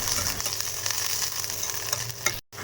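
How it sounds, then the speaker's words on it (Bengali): Ginger and garlic frying in oil give a steady, close hiss of sizzling with faint stirring, continuing without voices until a brief dropout near the end. "এবার এই আদা আর রসুনটাকে আমি খুব ভালো করে ভাজবো যতক্ষণ কিনা এর কাঁচা গন্ধটা চলে যায়"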